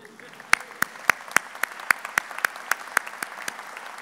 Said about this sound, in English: I thought I heard some applause for that as well.